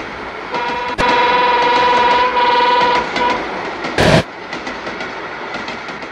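A Czech class 460 electric multiple unit passes close by, with steady rolling rumble and wheel clatter under a sustained horn-like tone, then a sharp loud burst near the end as it runs on. No voices.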